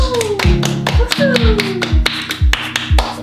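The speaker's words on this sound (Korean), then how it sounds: "박수!" Several people clap in a short burst of applause welcoming a guest to a winter car-care and tire Q&A, with music and a steady thumping beat running underneath.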